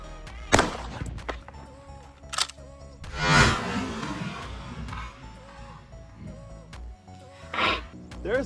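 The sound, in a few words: pump shotgun firing a slug into 2x4 boards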